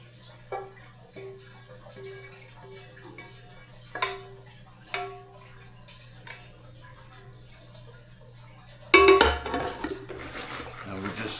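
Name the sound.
mixing homemade stuffing in a pot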